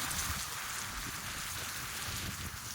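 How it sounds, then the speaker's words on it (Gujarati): Steady rain drums on a tin sheet roof, a dense continuous patter close by with no pauses and no voices. "કેવો પતરા પર કેવો વરસાદ પડે છે"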